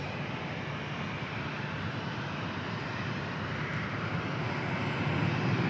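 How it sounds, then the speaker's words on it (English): A Southwest Airlines Boeing 737 passes overhead near San Diego airport, its engines giving a continuous broadband roar that stays steady and swells slightly toward the end, with no voices. "Back on the Southwest flight heading over here."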